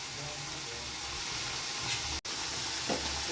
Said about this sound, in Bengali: সুন্দর একটু ভাজা হতে থাকুক এটা।